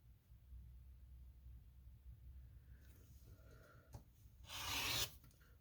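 Quilting fabric being cut on a cutting mat, a soft rasping stroke building to a brief louder burst near the end, close up and otherwise quiet.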